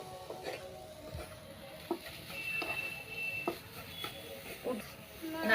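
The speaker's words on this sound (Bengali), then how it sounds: "নারকেলের রস না শুকানো পর্যন্ত পুরটাকে একটু নাড়াচাড়া করব।" Coconut and kheer filling for patishapta pitha is stirred in a pan, with soft scraping strokes and a faint sizzle at a steady, irregular rhythm, close and quiet.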